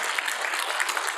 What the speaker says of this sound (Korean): 여러분 우리 하나님께 영광의 박수 한번 하죠